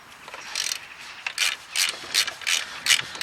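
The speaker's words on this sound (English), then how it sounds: "Right, so we'll take off these 2 bolts." A ratchet clicks in short bursts of rapid pawl ticks while undoing 15mm alternator bolts on a car, with brief pauses between strokes.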